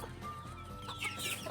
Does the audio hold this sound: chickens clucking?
yes